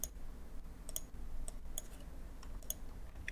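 Sharp, faint computer mouse clicks tap out an irregular pattern, singles and quick doubles, over a quiet room hum during software work on a machine simulation.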